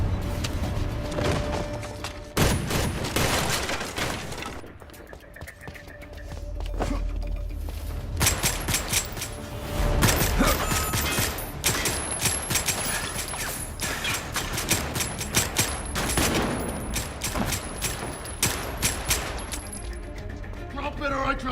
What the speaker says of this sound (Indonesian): mereka justru terlibat dalam adu tembak